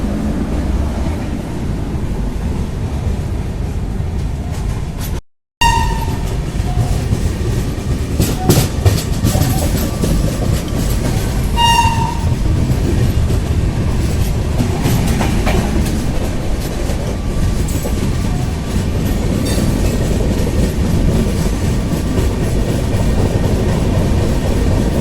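A Shatabdi Express pulls out of Bardhaman station, its cars rumbling and clicking over the rails in a loud, steady roar, with a brief gap in the sound early on and faint voices now and then.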